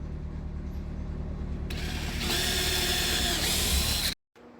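A power driver sets screws into a plastic fuel tank during repair, a steady whirring motor that rises in pitch midway and stops abruptly near the end, close and alone.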